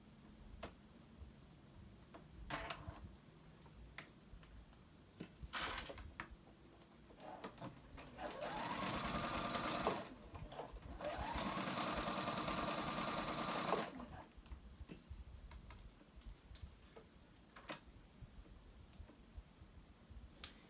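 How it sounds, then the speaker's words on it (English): A sewing machine runs a long basting stitch along the edge of sweater fabric, a close steady mechanical whir in two runs of a few seconds each, with soft clicks and handling noises before and after. "now I'm going to use a basting stitch, and I'm going to baste it"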